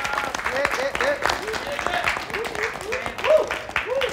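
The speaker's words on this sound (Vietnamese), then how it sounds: "một tràng vỗ tay cho nỗ lực của tất cả chúng ta" A studio audience at a Vietnamese televised music competition bursts into applause, a dense stretch of clapping mixed with whoops and cheers while voices carry over it.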